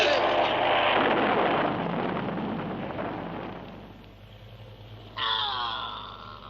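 A bomb explosion effect in a French radio drama: a loud rumbling blast that decays slowly over several seconds, followed by a short burst of agitated vocal sound near the end.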